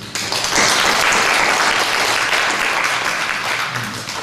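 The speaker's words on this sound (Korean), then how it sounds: "박수 한번 해줘야 되지." Loud, sustained applause from a church congregation at a Sunday service, a dense wash of clapping that fills the whole stretch, swelling quickly and tapering slightly toward the end.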